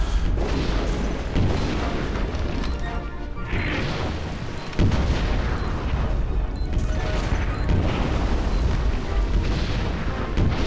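Gunfire and explosions boom continuously through a war level of Conker's Bad Fur Day, loud dense bursts and crashes layered without pause.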